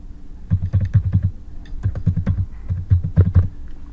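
Computer keyboard typing, with quick bursts of keystrokes in three clusters separated by short pauses, close and clear with no talking.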